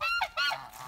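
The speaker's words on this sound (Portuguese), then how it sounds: "Vai lá ver o ganso?" Goose honking nearby, two or three quick harsh honks in a short burst, clear and alone.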